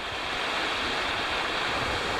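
Creek water along the Harper Creek Trail in the Wilson Creek Wilderness Area rushes in a steady, dense, broadband wash, close and continuous with no voices.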